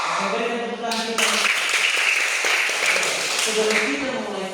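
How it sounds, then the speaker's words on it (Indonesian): Children in a primary school classroom clap together in a dense burst of applause, close and loud, with a teacher's voice speaking over parts of it. "Berikan tepuk tangan kita."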